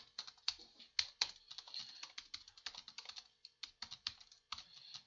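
A computer keyboard is typed on in quick, irregular bursts of light, crisp keystrokes, close by and steady for several seconds with no talking.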